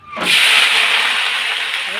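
Loud, steady sizzling as fried food is poured into hot oil spiced with black cumin, rising sharply and holding as a broad hiss for the rest of the moment.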